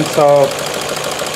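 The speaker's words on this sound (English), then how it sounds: "the engine is shaking and it's misfiring" Idling 1.6 petrol engine in a 2017 Ford C-Max with a misfire, a rough, uneven running rumble heard close up, briefly overlapped by a single spoken word at the start.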